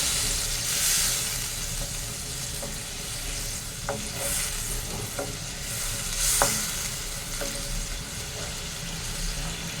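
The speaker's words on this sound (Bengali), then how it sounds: "আমি অল্প জল দিয়ে দিচ্ছি এটা একটু গায়ে মাখা ঝোল করব" Fish curry simmering in a pan after a little water goes in, a steady soft sizzle and bubbling with a few faint clinks of a spoon against the pan throughout.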